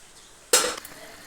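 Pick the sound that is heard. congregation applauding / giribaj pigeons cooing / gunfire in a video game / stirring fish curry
stirring fish curry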